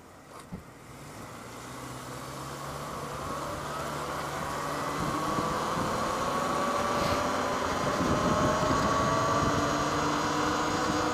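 A Talaria R MX4 electric dirt bike in sport mode on knobby dirt tires, riding on asphalt. A whining electric motor rises in pitch as it accelerates, over steady road and wind rumble.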